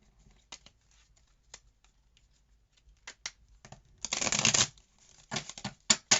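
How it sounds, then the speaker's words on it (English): Scattered light flicks of a tarot card deck give way to a dense riffle burst, followed by a few more sharp snaps, close and fairly quiet. "I'm just going to go ahead and cut the deck one more time to make sure that things are nice and shuffled up"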